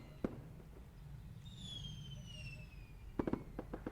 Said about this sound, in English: Didn't know they were shooting fireworks tonight.